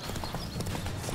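Quick, steady clip-clop of a horse trotting in The Witcher 3 over a noisy background, close and rhythmic throughout the short moment.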